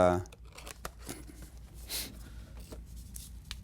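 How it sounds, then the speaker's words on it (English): A packet of saline salt for a nasal rinse is torn open, giving a few brief crinkling rips and paper rustles at close range over a quiet background. "what you first do is you open the salt packet"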